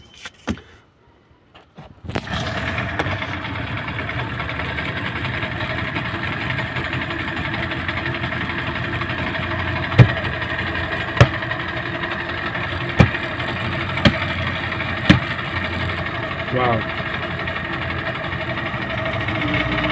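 Steady droning hum of an outboard boat motor idling, loud and close, with a few sharp clicks and knocks over the constant engine tone.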